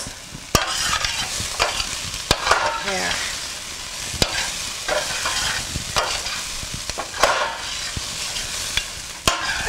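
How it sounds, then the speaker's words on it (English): Onions browning in a pan for pinto beans sizzle steadily while a utensil stirs and scrapes, giving sharp, irregular clacks against the pan every second or so, close and loud. "Our onions have been slightly browning and getting transparent."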